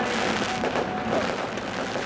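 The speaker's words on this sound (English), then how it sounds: "the fireworks blast into the Virginia night sky" Fireworks bursting over a speedway at night during a sprint car event, heard as a dense, continuous wash of crackling and hissing with no distinct booms, fairly loud and steady throughout.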